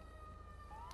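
A police car siren in GTA 5 with the LSPDFR mod gives a faint, steady electronic wail that starts to rise toward the end of the brief moment, over a low engine rumble.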